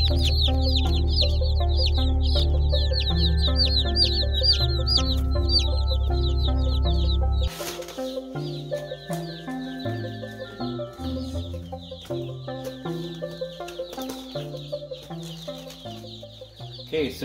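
Thirty-five baby meat chicks peep constantly, a dense chorus of high, bright chirps close by, layered over a low rumble that drops away midway while the peeping continues.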